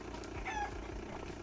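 Chicken clucking in a Roblox driving game, a few short squawky calls with a brief crowing-like cry in the middle over a low background hum, moderately loud and without talk.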